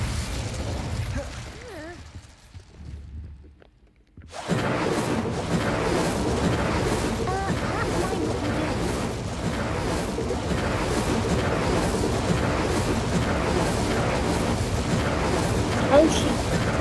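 In Hogwarts Legacy, the Incendio fire spell bursts out loudly after a brief near-silence, then a sustained roaring, crackling fire blast carries on with pops and booms.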